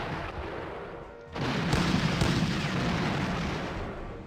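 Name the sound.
artillery fire in a Battle of Pruzana video game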